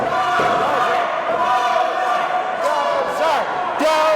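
A wrestling crowd roars steadily for the Bulldozer, a big man, during a tag match against Dynamite's team, with a sustained wall of cheering and shouting and some voices heard throughout.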